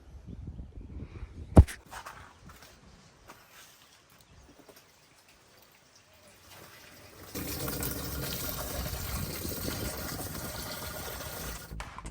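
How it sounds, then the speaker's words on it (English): Water gushes steadily into a hole dug in soil after a quiet stretch with a sharp knock, the pouring loud and continuous to the end. "I'm gonna put some water in here so that it'll soften the soil a little bit"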